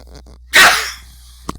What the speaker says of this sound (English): so sorry about the sneezing